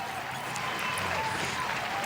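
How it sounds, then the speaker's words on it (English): Podcast studio hosts and crew applaud briefly, a dense steady clatter of claps lasting a couple of seconds. "Round of applause for Ish."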